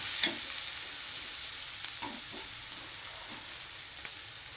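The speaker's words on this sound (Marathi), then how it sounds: "अद्रक, लसूण, कोथिंबीर कुटून घेतलेली मस्त ती याच्यात मी टाकली फ्रायसाठी" Crushed ginger, garlic and coriander fry steadily in a pan, a continuous mid-level sizzle with a few soft clinks of stirring, no voices.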